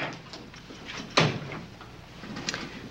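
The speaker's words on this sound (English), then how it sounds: "Close the door." A door thuds shut once, a single sharp close knock midway through, with quieter shuffling and handling sounds around it in an indoor room; no speech.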